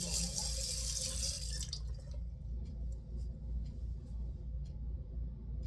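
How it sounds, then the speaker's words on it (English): Tap water runs and splashes as a small metal part is rinsed under it. A loud, close stream falls for about two seconds and then tapers to quieter drips and trickles over a low background rumble. "Let me rinse it off."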